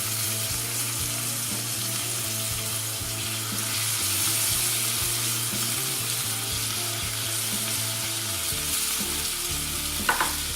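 Homemade bacon fries in a cast iron pan after being flipped, a steady close sizzle and crackle with a low hum beneath, ending in a brief clink, no talk.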